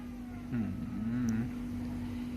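A cat gives a single drawn-out, wavering meow close by, with a steady mechanical hum beneath it.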